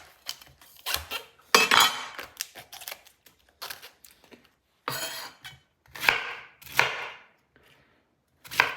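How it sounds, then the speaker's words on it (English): Knife blade cutting through the thick main stem of a cauliflower on a board, giving a series of close, crisp crunching and tapping strokes at an irregular rhythm with short pauses between cuts. "we're cutting off the main stem here"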